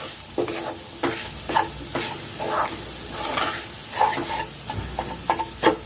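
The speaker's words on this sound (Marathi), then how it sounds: "पाच मिनिट मी हा असाच भाजून घेते" Moong dal roasting in a pan for halwa, stirred with repeated scraping strokes over a low sizzle, close and fairly loud, with no voices.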